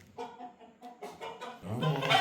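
A rooster clucks in short, repeated bursts at close range, growing louder and busier toward the end.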